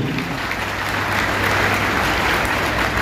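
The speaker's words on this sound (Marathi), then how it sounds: "आलेल्या पाहुण्यांचं अतिशय जोरात टाळ्या वाजवून आपण या ठिकाणी स्वागत करूया" Steady applause from an audience welcoming guests at a student felicitation event in Malegaon, dense continuous clapping that swells slightly midway and holds without talk.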